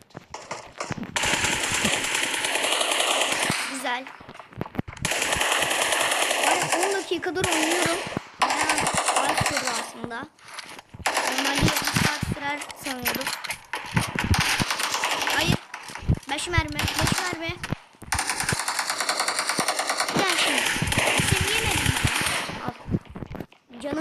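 Gunfire in the PUBG video game, with long rapid automatic bursts and short pauses between them, loud and dense throughout, and a player's voice talking at times over the shooting.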